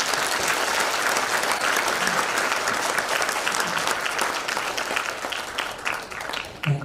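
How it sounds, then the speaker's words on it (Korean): A church congregation at an Incheon Christian council president's inauguration and New Year ceremony gives a long, loud round of applause, a dense crowd clapping that holds for several seconds and fades slightly toward the end. "다 같이 하나님께 영광의 박수 한번 올려드립니다"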